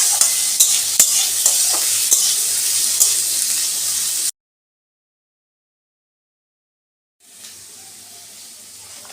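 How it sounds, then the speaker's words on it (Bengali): Potatoes fry in a pan with a bright, crackling sizzle and a few sharp stirring clicks, then a few seconds of silence before a softer sizzle returns. "আলুটাও এবার দিয়ে দিয়েছি, এটা আমি একটুখানি ভাজবো"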